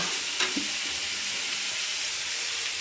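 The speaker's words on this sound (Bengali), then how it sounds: "চার পরে এই ভাজাটা বসিয়ে দিয়েছি" Food fries in a pan at home, giving a constant close hiss of sizzling oil, with a couple of faint clinks early on and no voices.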